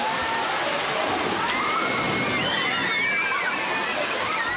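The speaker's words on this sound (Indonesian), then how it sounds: "Dentuman air dari atas gentong bak air terjun berpadu dengan derasnya salju yang berterbangan" Water crashes down from a huge tipping bucket at a water park amid swirling artificial snow, a loud, sustained slosh and splash with shrill voices faintly mixed in.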